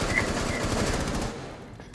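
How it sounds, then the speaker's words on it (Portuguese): Rapid machine gun fire from a video game, a dense continuous burst of shots that thins out near the end, loud and close. "É muito tiro!"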